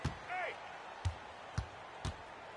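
Basketball dunk in NBA 2K23, a sharp slam followed by several ball bounces in steady rhythm, with game commentary speaking over it.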